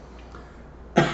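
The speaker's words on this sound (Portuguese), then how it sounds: "Com aquela tosse seca." A single short, dry cough from a person on the last day of a viral illness, sharp and close at the very end after quiet room tone.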